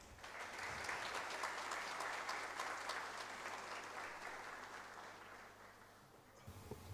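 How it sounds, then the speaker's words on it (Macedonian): An audience at a university diploma ceremony claps steadily, a dense wash of applause that slowly fades toward the end. "Ве молиме да го поздравиме со голем аплауз"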